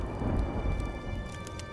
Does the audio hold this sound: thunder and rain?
yes